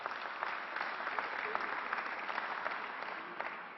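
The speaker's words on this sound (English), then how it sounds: "Let's give him a round of applause." Applause for County Executive Steve Bellone at a Governor Cuomo announcement, a continuous, even patter of many hands, muffled and fairly distant.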